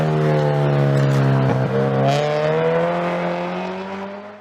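Engine of a 2013 Subaru BRZ track build held at steady revs in fifth gear, a loud close harmonic drone that dips briefly around a shift or lift, then climbs and slowly fades.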